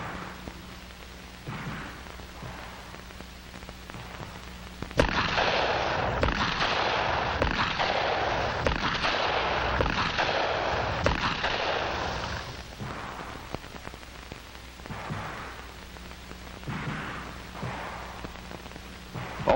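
Handgun shots fired by a shooter pointing the weapon like a finger without using the front sight, dense loud reports bunched between about five and twelve seconds, with sparser pops before and after.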